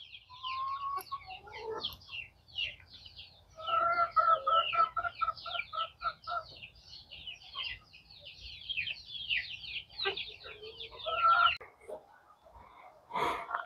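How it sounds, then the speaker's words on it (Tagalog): Several chickens clucking and squawking nearby in irregular bursts, with a louder cackle toward the end over a low background hum. "Ito na po yung mga manok natin"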